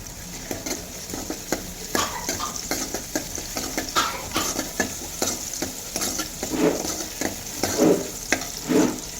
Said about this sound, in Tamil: கொஞ்சம் ஆயில் ஊற்றிக்கோங்க. பூண்டு, கொஞ்சம் இஞ்சி எல்லாம் போட்டு லைட்டாக வறுத்துக்கோங்க.